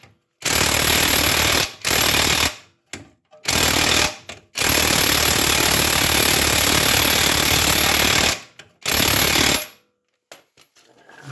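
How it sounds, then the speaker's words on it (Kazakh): An impact wrench removing a long bolt on an Audi 100 Quattro, firing in loud, close rattling bursts: several short runs, then a long sustained hammering, then one more burst with brief pauses between. "Оны шығу үшін мен гайковертті қолданып жатырмын."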